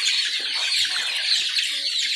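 Many chickens in coops on a farm holding about ten thousand birds during vaccination cluck and chatter densely and continuously, loud and close, with faint wing flapping in the mix.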